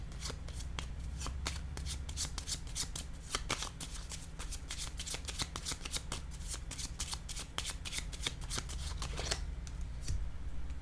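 Tarot cards shuffled and flicked down one after another, giving a steady stream of crisp papery snaps and riffles over a low constant hum, with no voices.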